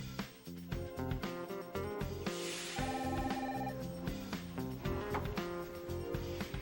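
A telephone rings at a hotel front desk, a steady repeating electronic ring heard fairly faintly over background music.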